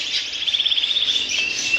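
Budgerigars in a pet shop chirp and warble in quick, rapid bursts, a busy, high twittering that stays close and fairly loud, with no voices over it.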